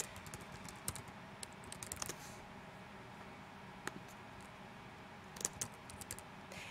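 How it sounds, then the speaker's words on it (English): Keys clatter on a computer keyboard as answers are typed into a document: quiet, irregular taps in small bursts with short gaps between them, close and soft against a hushed room. "So she's going to type in her answers."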